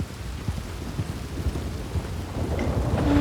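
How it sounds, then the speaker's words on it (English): Steady rain hisses throughout in the video game Red Dead Redemption 2 while low thunder rumbles and builds, growing louder toward the end. "And now it is raining."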